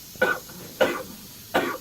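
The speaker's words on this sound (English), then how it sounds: "Cough, cough." Three separate coughs, evenly spaced and close, each a short harsh burst.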